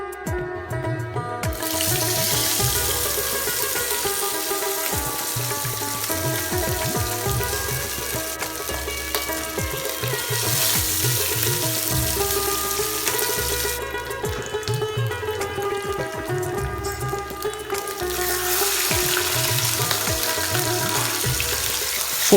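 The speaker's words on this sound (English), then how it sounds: "Ensure to bring the oil to smoking hot before frying the fish." Hilsa fish pieces marinated in salt and turmeric, frying in smoking-hot mustard oil: a continuous loud sizzle and crackle that swells and eases in waves, with no speech.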